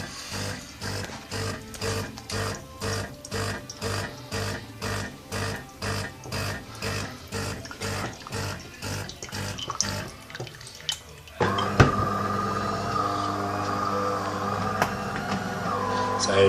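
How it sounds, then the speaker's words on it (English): A coffee machine runs its automatic rinse cycle, giving a steady pulsing pump rhythm for about ten seconds before switching to a louder continuous flow of water and hiss, heard close up with no talk. "So at the moment, it's cleaning. It cleans itself every time it goes on. It's rinsing, it's not cleaning."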